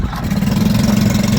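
A small Suzuki 4 horsepower four-stroke outboard engine on a boat runs loud and close, a steady low chugging drone over the short span.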